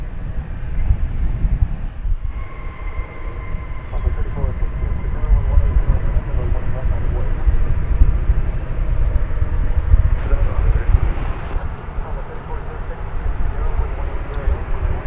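An American Airlines Boeing 737-800 arrives at DFW Airport, its engine rumble steady and moderately distant beneath wind buffeting, with a couple of tonal whines from the jet.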